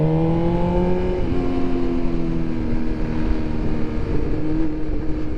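A 2026 BMW S 1000 RR motorcycle engine drones steadily while riding through Medellin traffic, a close, continuous rumble with a slowly shifting pitch and no talk.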